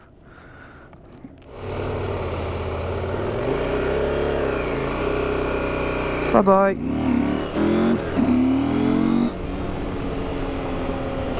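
KTM 690 motorcycle riding off, its engine rising and revving loudly close by, with gear changes and a brief voice at the start.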